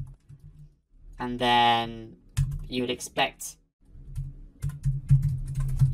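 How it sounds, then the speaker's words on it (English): Rapid clicking keystrokes on a computer keyboard while someone types code, a soft patter under and after a man's speech. "So perhaps you would type some code where this moves equal to 1"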